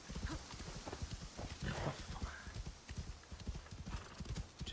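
A horse in a video game gallops with rapid, rhythmic clip-clop hoofbeats up close, and a brief whinny rises partway through. Faint talk sits low beneath it.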